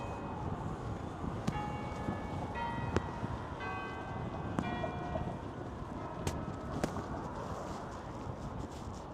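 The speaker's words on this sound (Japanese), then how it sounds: "13時の鐘が鳴っております。" A bell tolls the 13:00 hour in Stockholm near the royal palace on the waterfront. The strikes are faint and distant, come at irregular intervals, and ring out over a constant outdoor background hum.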